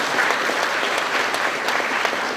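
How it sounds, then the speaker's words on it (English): Sustained applause from an audience at a graduation ceremony, steady dense clapping throughout without pause. "let's clap for our guardians who have ensured that we get this"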